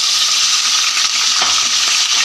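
Garlic sizzling steadily in hot oil in a pan, a dense continuous frying hiss with a few faint clinks of a utensil, heard up close without voices.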